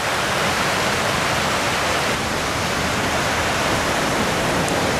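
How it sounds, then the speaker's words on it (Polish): Rushing water from a stream or falls beside a campsite in Sweden: a steady, loud, continuous roar with no breaks and no voices. "Szumi woda, szumi woda."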